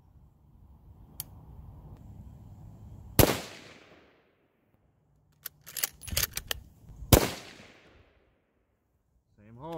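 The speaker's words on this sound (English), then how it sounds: "So let's shoot the group and see how it goes." A rifle fires at a target group in two sharp, loud shots about four seconds apart, each with a decaying echo, amid quieter clicks and handling noises.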